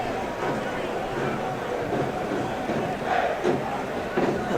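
Sellout crowd of supporters roaring at a soccer match at Torero Stadium, San Diego Loyal against Detroit City, a dense steady rumble of chanting and cheering with a commentator talking over it.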